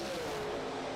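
A dragster roaring down a drag strip during bracket racing, a steady loud, dense engine blast at a distance with no talk.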